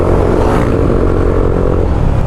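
A motorcycle fitted with an Exos X6 exhaust pipe revs under load, a loud, steady, deep and bassy engine drone heard close up with no talk.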